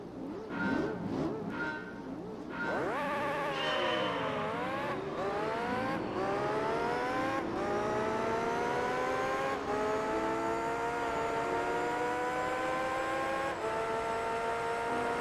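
A race car engine in Gran Turismo 3 revs through rising gear shifts, climbing in pitch and dropping back with each change before settling into a long sustained high whine, loud and up front.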